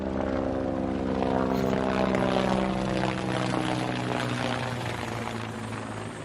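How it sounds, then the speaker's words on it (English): A helicopter passing overhead at night gives a loud, steady rotor drone with a throbbing low hum that dips slightly toward the end. No one speaks. "Why is there a helicopter right now?"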